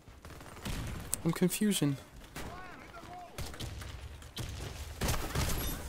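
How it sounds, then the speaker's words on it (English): Shooting in the online shooter video game Warface, with rapid bursts of gunfire running through much of the clip alongside someone talking excitedly. "Where did my bullets go? My shots?"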